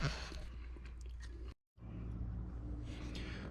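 Close, wet chewing of clams soaked with crackers at a camp meal, steady crunchy mouth sounds with a brief silent pause midway.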